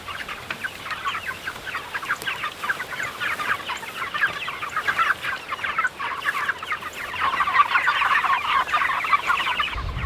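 A flock of chickens clucks continuously on an open pasture, a dense overlapping chatter of many birds at moderate distance that grows louder and busier toward the end.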